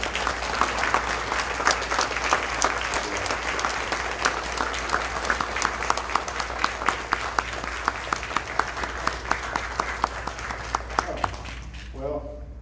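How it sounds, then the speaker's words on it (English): Church congregation standing and clapping their hands in a long, sustained round of applause, steady and fairly close, with a low hum underneath and a voice starting to speak as the clapping fades at the end. "let's just all stand and embarrass her and just clap our hands."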